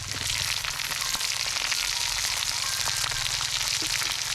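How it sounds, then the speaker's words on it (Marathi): Tomatoes fry in hot oil in a pan, giving a steady, close, continuous sizzle with no pauses. "आणि टॉमॅटो पण तळून घेते"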